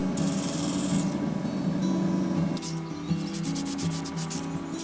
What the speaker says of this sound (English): I finished the end shapes with a coarse sand and then smooth them off, firstly with 150 grit and finally 240